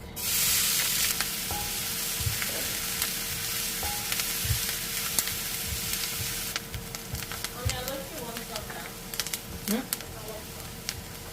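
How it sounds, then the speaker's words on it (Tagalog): Onion and garlic fry in a pan, a continuous low sizzle with occasional stirring clatter and utensil knocks, partly under intermittent talking. "Now, let's put in onion and garlic."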